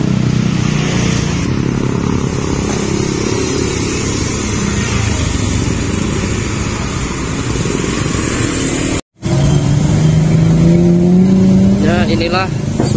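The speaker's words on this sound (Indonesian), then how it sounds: "Ini dominan ada mobil pribadi dan sepeda motor." Morning traffic of private cars and motorcycles passes a bus terminal in Sumberlawang during the Lebaran 2021 homecoming travel, with a loud continuous engine rumble and vehicles revving by, while someone talks over it.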